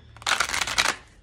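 A Queen of the Moon oracle deck is shuffled in one quick riffle of crisp card flutter lasting under a second, close by, with no talking.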